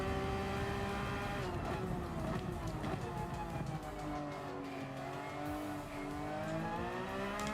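Racing car engine in Gran Turismo 7 at Suzuka, a loud continuous whine whose pitch climbs and falls through revs and gear changes, with a faint tyre squeal and a voice talking over it.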